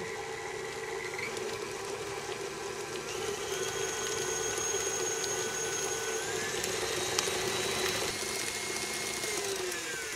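An electric mixer whirs steadily while creaming butter and sugar for cookie dough, a continuous mid-pitched motor drone with faint rising whine tones, heard alone and at an even level.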